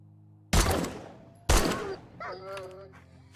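Two loud, close gunshots about a second apart, each with a long decaying boom, in the 7 Days to Die Alpha 20 survival game, followed by a brief tonal in-game sound.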